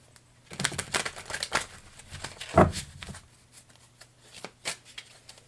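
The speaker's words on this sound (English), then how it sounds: "I don't know why I feel compelled to shuffle, but I do" A deck of playing cards being shuffled by hand, close and crisp, with bursts of riffling and flicking snaps and one louder riffle partway through. There is no talking.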